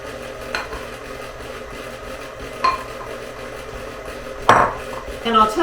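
Utensil scraping and clinking in a bowl as powdered sugar is stirred into a mixture; a few sporadic knocks and clatters over a steady low background hum, close by, with no talk.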